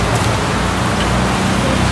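Steady rain falls outdoors during a fishing or swimming outing, a dense, even hiss of drops lasting throughout, fairly loud and close, with no voices.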